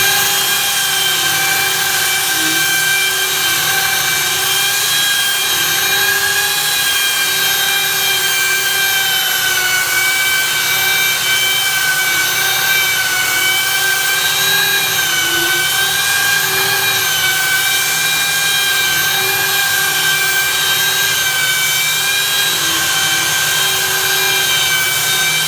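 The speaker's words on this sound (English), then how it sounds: "We're using the belt sander with the metal" A belt sander fitted with a metal sanding belt grinds loudly and continuously against metal during a bus conversion, a harsh, steady whine with no pauses throughout.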